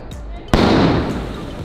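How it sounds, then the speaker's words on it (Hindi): A Diwali sky shot firework bursting with a sudden loud bang followed by a long crackling, hissing tail fading slowly, heard up close outdoors. "चलो जी स्टार्ट करते हैं हमारे पहले स्काई शॉट से,"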